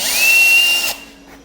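A small bit in a power drill spins up with a high, steady whine while boring a pilot hole, then cuts off and winds down after about a second, close and fairly loud.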